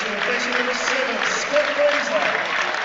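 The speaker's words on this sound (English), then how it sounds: "he's going to get a warm round of applause" Broad, continuous clapping from a large stadium crowd at a football match, steady and moderately loud, with murmuring voices mixed into the noise.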